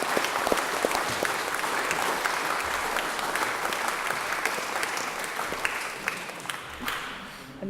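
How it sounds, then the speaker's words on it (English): Audience at a charity's 10th anniversary celebration claps in a sustained, dense burst of applause that fills the room, thinning slightly toward the end. "Put your hands together and give a clap."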